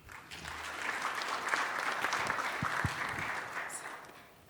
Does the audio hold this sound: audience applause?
yes